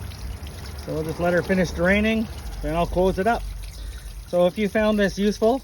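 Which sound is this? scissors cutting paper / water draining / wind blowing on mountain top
water draining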